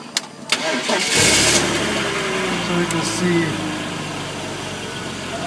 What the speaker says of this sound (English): I'm going to start a dead car.